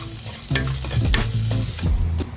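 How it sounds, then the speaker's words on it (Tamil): Small onions stir-fried with salt in a pan for fish curry give a close, steady sizzle, broken by several distinct scraping strokes of a spoon against the pan. Nobody talks. "நல்லா வதக்கி விடலாம்"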